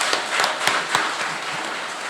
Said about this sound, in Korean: 여러분 마지막으로 한번 큰 박수 한번 보내주십시오